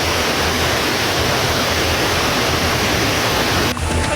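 Torrential floodwater from the Tuntang River pours across a submerged road in Godong, Grobogan, Central Java, a steady, loud, broadband rush with no letup.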